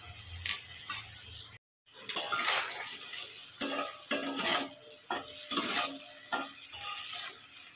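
Prawns seasoned with salt and turmeric fry in a pan for a home-style prawn and potato curry, with soft sizzling under repeated clinks and scrapes of a spatula or spoon stirring against the pan.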